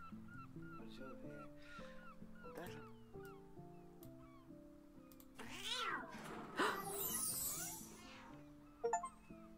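A cat meows repeatedly in the video game Follow The Meaning, short tonal cries over soft game music, with a louder burst of sound effects near the end.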